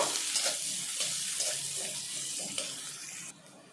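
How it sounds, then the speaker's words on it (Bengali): Chopped onion fries in oil with cardamom, cloves, cinnamon and cumin seeds for a restaurant-style egg curry, a steady close sizzle with stirring scrapes, the hiss easing slightly toward the end. "ওর মধ্যে দিয়ে দিচ্ছি কুচনো পেঁয়াজ। এখন এগুলো ভালো করে ভেজে নেব।"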